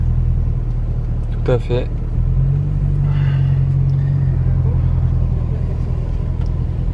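Mercedes Brabus 800 with a V8 rumbling past on a street: a deep, steady low growl that swells slightly as it passes, heard close, with a brief spoken remark over it.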